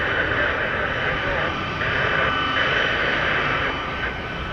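A plane at Orlando International Airport roars steadily and loudly from close range on a windy day, with no talk over the engine noise.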